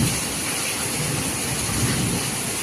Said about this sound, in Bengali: কত শিল পড়ছে দেখো ওই পুরো বৃষ্টি নেমে গেছে